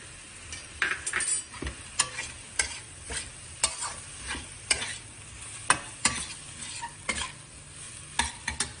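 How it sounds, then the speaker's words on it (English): Tomato cooking with salt in a sizzling pan, with a spoon scraping and stirring in steady repeated strokes over a soft frying hiss, close and fairly quiet. "I'll let the tomato cook properly and adding a little bit more salt."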